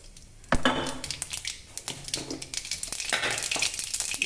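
Mustard seeds crackling and sizzling in hot oil in a pan, with dense popping and spattering that starts abruptly and keeps up steadily, close and fairly loud, along with a few clinks of a utensil against the pan.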